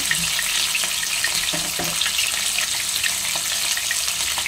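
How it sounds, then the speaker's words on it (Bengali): Bhola fish frying in oil in a pan, a steady close sizzle with faint scraping and clinks, no voices. "এই মাছগুলো ভাজা হোক"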